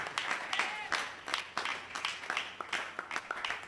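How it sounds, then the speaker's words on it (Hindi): A congregation at a Hindi church service claps to give thanks, with scattered, uneven hand claps that stay fairly quiet under voices talking. "जो धीरज रहकर बैठे हैं, ताली बजाकर प्रभु का धन्यवाद करें।"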